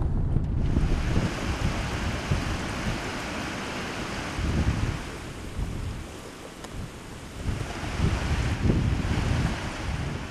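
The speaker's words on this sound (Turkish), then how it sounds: "Yükseklerden gelen sular kayaların içinde buldukları boşlukları kullanarak ilerliyorlar" Mountain water rushes over and between rocks at high altitude, a loud, steady broadband roar with surging swells and gusty texture and no voices.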